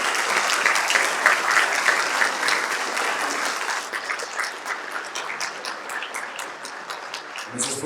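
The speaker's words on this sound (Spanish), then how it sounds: "Con esos fuertes aplausos agradecemos las sentidas palabras de la ponencia" A seminar audience applauds loudly, dense sustained clapping that fills the room and slowly thins toward the end.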